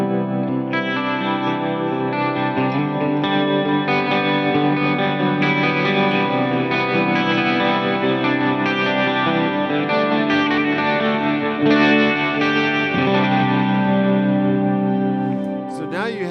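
A sustained, shimmering chorused tone plays loudly and continuously, its pitch subtly wavering and thickened, with a slight swell near the end.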